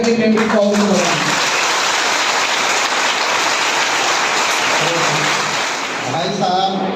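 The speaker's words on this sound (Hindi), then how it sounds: "ताली बजा करके मेमोरी पावर बढ़ाएं।" Loud, dense clapping from a school audience at a Brahma Kumaris moral-education session in a girls' middle school, filling the whole stretch steadily, with brief speech at the start and a voice returning near the end.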